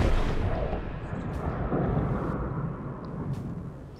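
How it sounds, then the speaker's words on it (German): Exploding fish bursting underwater in Subnautica, a deep, rumbling boom that swells at once and rolls on as a long muffled roar, loud and close, with faint higher ticks above. "Diese blöden Explosionsfische."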